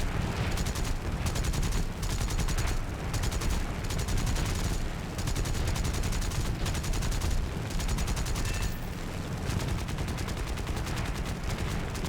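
Aircraft cannons and machine guns on a Mitsubishi A6M2 fighter in War Thunder fire in dense, continuous rapid bursts over loud engine roar, with a few short pauses between volleys.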